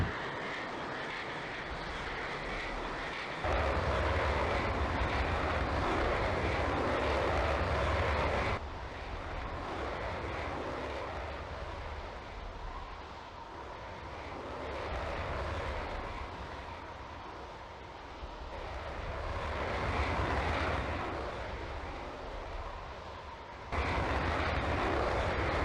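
An F-16 jet taking off in the Falcon 4 Allied Force flight simulator, a loud steady engine roar with broadband rumble that surges and swells over about twenty-five seconds, with no talk.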